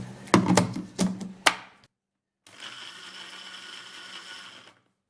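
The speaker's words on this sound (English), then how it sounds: "I'll blend it for 10 to 15 seconds." A kitchen blender: several short pulsing bursts at first, then after a brief pause a steady whirring run of a few seconds that cuts off abruptly.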